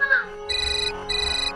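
A telephone's electronic ringtone sounds close and clear in two bright trilling bursts after a brief voice at the start.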